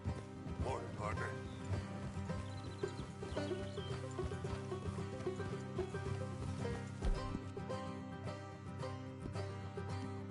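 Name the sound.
horses galloping in Red Dead Redemption II video game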